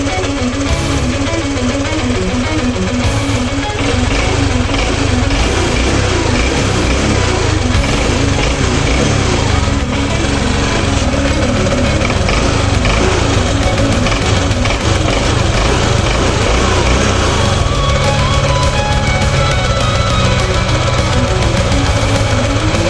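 Motorcycle engine idling while warming up, with stumbling, bogging and dying when the idle is lowered and error code 08 showing. A loud, close, continuous rough mechanical drone runs throughout with no talk.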